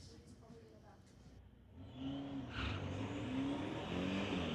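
A 2010 BMW and a 1971 Volkswagen Beetle rev and idle at a street-legal drag strip, engine tones rising in waves, with an announcer talking over them.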